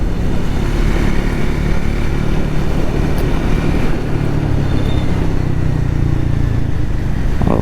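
A Triumph Speed 400 motorcycle engine drones steadily while riding, a loud, continuous rumble with wind noise and no break over the whole stretch.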